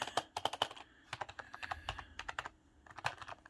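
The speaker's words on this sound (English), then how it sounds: "listen to this. Super quiet. Really nice keyboard." Someone types on a quiet RGB gaming keyboard, sending out rapid bursts of soft, close key clicks with brief pauses between runs.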